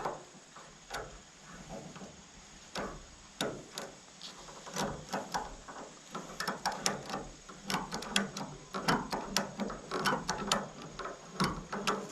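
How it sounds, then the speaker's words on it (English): A ratchet tensioner tightens wire on a homestead pig pen fence, making repeated sharp clicking bursts in irregular runs that grow busier and louder toward the end, close to the microphone with no talking. "We might use the bigger ratchet, actually."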